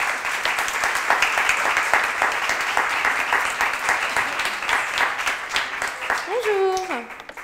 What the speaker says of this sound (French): Donc applaudissez-les.